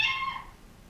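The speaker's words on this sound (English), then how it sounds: "She'll just be like, meow." A pet cat lets out a single short, high meow that fades within half a second, fairly soft and close by, with only faint room hum afterward and no talking.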